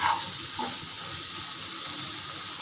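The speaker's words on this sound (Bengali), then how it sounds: "একটু নাড়াচাড়া করে নিয়ে আমি এর মধ্যে জল অ্যাড করে দেব।" Water is poured into a pan of potatoes and spices for a fish roe curry, a steady close splashing stream that runs alone, without talk, through the short stretch.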